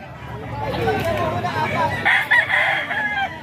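A fighting rooster crows loudly close by, a strained drawn-out call over a busy backdrop of other fowl and people talking in the distance.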